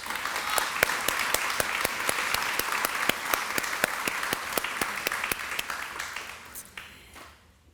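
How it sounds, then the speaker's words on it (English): A round of applause for corporate sponsors at an awards program, with many hands clapping steadily and sharply for several seconds before fading out toward the end. "We'd like to give all of them a huge thank you and round of applause."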